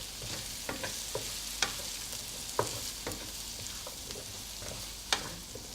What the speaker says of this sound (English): And then you just want to give that a good stir.